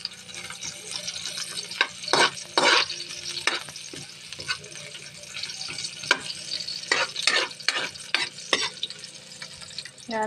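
Onion and garlic frying in a pan for ginisang ampalaya, with steady sizzling, stirring clatter and sharp scraping bursts throughout, fairly close.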